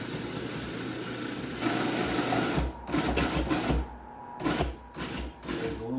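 A food processor churning noodle dough, first a steady motor run, then several short pulsed bursts with gaps between them, close and fairly loud.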